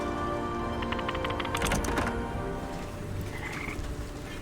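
Frogs croak in the video game Wytchwood, a quick cluster of rattling croaks rising over a steady ambient background, then fading into quieter game sounds.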